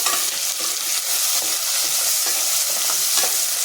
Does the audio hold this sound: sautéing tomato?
yes